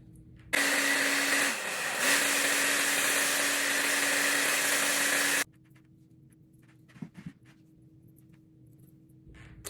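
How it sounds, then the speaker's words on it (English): A hair dryer blows on wig lace, a loud steady whooshing roar that starts abruptly, dips briefly, and cuts off after about five seconds, leaving quiet room tone with a few faint clicks. "And then we're going to hit it with the hair dryer."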